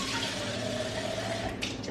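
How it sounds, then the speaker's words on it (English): Water poured from a tap into a cooking pot of meat during large-batch freezer meal prep, a steady continuous splashing stream heard close up, with no talking. "So then I will put a little bit of water so it doesn't cook in the bottom."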